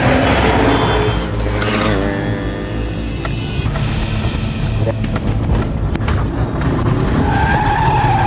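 Car tyres skidding and squealing during an overtaking chase, a loud drawn-out screech over roaring engine noise, followed by rattling and clunks as the vehicles come to a stop.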